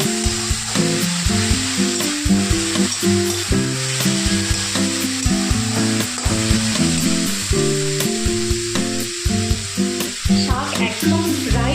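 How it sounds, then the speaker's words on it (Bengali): Red amaranth leaves fry in a pan with a steady loud sizzle while being stirred, with repeated scraping and clattering strokes running through the whole stretch. "অনেকটাই ভাজা ভাজা হয়ে এসছে"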